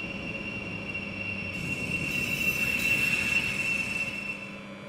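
A BR 420 electric multiple unit departing a station in Train Simulator 2015, with a steady rolling rumble and a sustained high-pitched wheel squeal swelling toward the middle, close and continuous, without talk.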